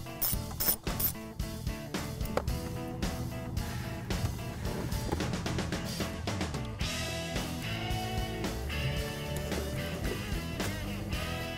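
A ratchet wrench tightens 7mm bolts holding an OBD bracket under a diesel truck's dash, giving rapid close clicking runs that start and stop, with a few sharper knocks early on and no talking.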